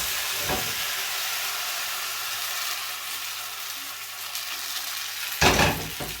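Crepe batter hitting a hot pan gives a steady broad sizzle and hiss throughout, with a soft scrape near the start and a louder burst of sizzling and clatter near the end; no one talks.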